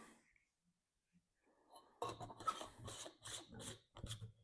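Clear primer is rubbed onto a PVC pipe fitting, heard as close, quick scrubbing and rasping strokes in short bursts after a near-silent pause.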